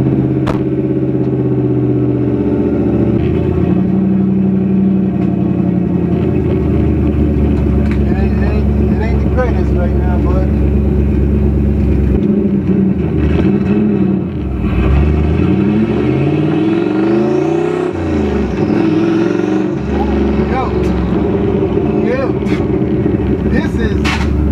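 A Ford Crown Victoria with the 4.6 V8 on a test drive, its engine droning loudly and continuously with rising and falling revs as it accelerates, heard from inside the car with a voice talking over it.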